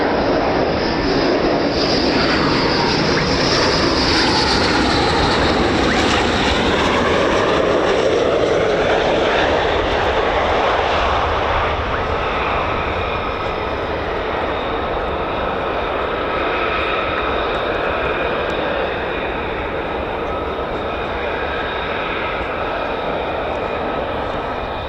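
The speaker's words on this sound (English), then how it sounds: "F-15s, yeah." F-15 fighter jets fly past an air base, a loud continuous engine roar that swells and sweeps overhead, then settles into a steady, slowly fading rumble with no talking.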